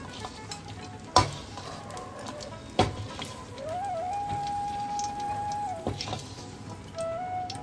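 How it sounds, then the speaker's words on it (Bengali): Cashews and raisins frying in ghee give a soft, continuous sizzle with a few sharp clinks of a utensil against the pan, close but fairly quiet, with no talking. "কাজু কিশমিশটা আমাদের খুব ভালো করে ভাজা হয়ে গেছে।"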